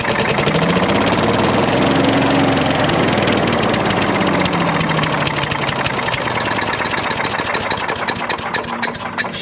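Small leaf vacuum engine started and running, a loud close buzzing two-stroke-style drone with rapid firing pulses and some revving that continues throughout.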